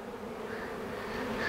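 A massive honey bee swarm buzzes faintly during a removal in Weslaco, Texas, a soft continuous drone with no voices.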